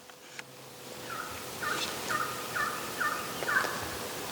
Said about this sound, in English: we should just wait to call until he gobbles